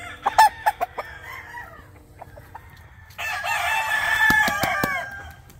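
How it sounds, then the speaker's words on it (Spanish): Chickens cluck in short bursts at a game farm in Oklahoma, then a rooster lets out a loud, drawn-out crow, nearby and clear with no talking. "pero tiene algunos pollos"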